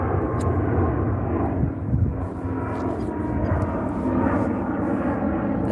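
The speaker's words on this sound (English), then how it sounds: "Let the plane pass." An airplane passes overhead outdoors, a loud, broad continuous engine roar that stays steady across the whole stretch with slight swells, no voices over it.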